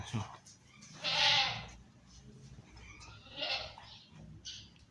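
A large, sturdy pregnant goat of the Zaanen breed bleats a couple of times, loud and fairly close, over a low steady background murmur.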